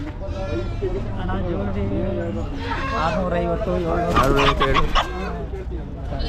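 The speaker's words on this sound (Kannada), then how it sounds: "ಎಷ್ಟು ತಿಂಗ್ಳು ಕೋಳಿ ಇದು" Chickens cluck and squawk at the Friday livestock market in Nelamangala, with sheep or goats bleating among them. People talk throughout, and the animal calls grow busier and louder near the end.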